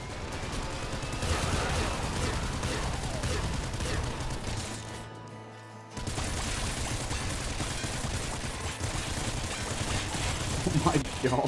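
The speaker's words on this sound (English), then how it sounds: "Elemental gun." Rapid, dense gunfire from an elemental gun in the game Nuclear Throne, continuous crackling bursts that drop out briefly near the middle and then resume just as loud.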